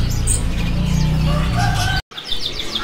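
Caged birds chirping at a bird market kiosk at Pramuka bird market, dense overlapping chirps and coos over loud crowd ambience, cut by a brief dropout.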